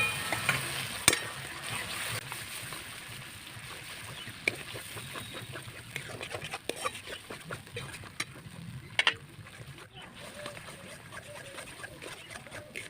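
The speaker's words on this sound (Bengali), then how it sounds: "চার চামচ দিলাম একটু জল দিচ্ছি" A paste of ground cashew, melon seed and poppy seed fries in a pan with a little water, giving a soft sizzle broken by scraping and stirring clicks.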